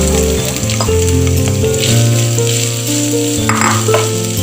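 Sliced onion sautés with crushed ginger and garlic in a hot pan, a loud, steady sizzle that holds throughout with no talking, while a strong low tonal hum runs underneath.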